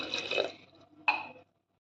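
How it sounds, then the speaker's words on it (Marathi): A glass of water is poured over washed yam pieces in a pressure cooker: a short close splashing pour, a brief pause, then a second quick gush before silence. "त्यात मी एक ग्लास पाणी ओतून घेते"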